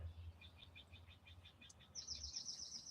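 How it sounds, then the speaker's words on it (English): Small birds chirp outdoors near a redwood tree, a rapid series of faint, high twittering notes over a low hum, the last phrase brighter and quicker. "So enjoy the birds chirping"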